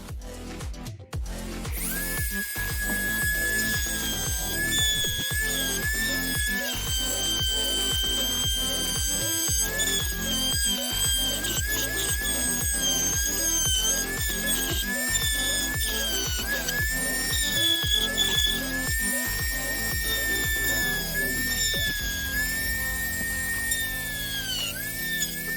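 A power tool whines steadily through a plastic model kit part, a 1/350 scale USS Enterprise refit, cutting along marked areas. Its high pitch wavers as it bites, with rapid pulsing clicks underneath, loud and continuous for the whole stretch.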